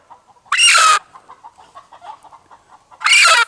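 A young Asil and Shamo cross rooster gives two loud, close bursts of strained clucking with softer, scattered calls between them.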